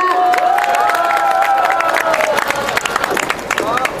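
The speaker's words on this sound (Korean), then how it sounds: "시국회의 연대사 하러 오신 분들 큰 박수로 모시도록 하겠습니다." Street rally crowd in front of a party office cheering and clapping to welcome speakers, loud shouts and whoops over dense applause, with sharper individual claps emerging as the cheering continues.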